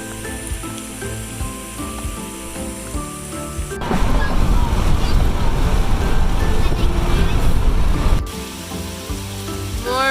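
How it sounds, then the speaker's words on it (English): Heavy summer rain pours down on a farm, a loud dense hiss that bursts in midway between stretches of other sound and then cuts off. "More rain."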